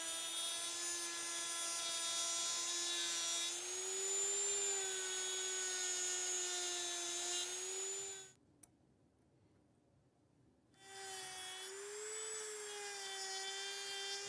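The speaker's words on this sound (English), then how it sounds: "after cutting and a little bit of prying, we were able to remove both the plastic shell and the inner metal shell" A high, steady motorized whine from a cutting tool works through the plastic and inner metal shells of an Apple Pencil, running continuously, cutting out for about two seconds, then resuming.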